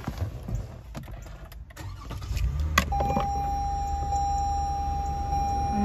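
A 2016 Toyota Highlander with about 83,700 miles starts up: a brief cranking burst, then the engine catches and settles into a steady, close idle hum with a faint electronic tone.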